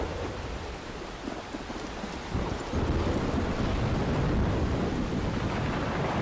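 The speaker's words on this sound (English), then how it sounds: "It's quite the storm." Heavy rain pours steadily during a thunderstorm in the video game Life is Strange, with a deep rumble swelling louder partway through, a dense, continuous wash and no voices.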